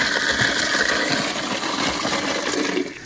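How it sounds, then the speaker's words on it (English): A grinder churns through spoiled, gone-bad ribs being processed for a biodigester, a steady loud mechanical whirring and grinding that runs continuously and drops in level near the end. "We're grinding up a whole party's worth of bad ribs that had gone bad"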